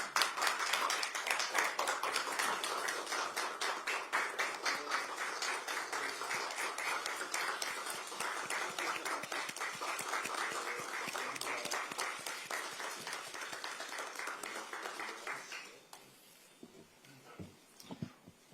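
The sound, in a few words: audience applause welcoming a speaker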